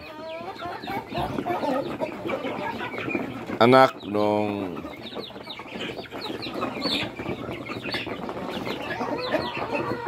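Backyard farm turkeys cluck and gobble nearby in a busy, overlapping chorus, with a person speaking briefly among the birds.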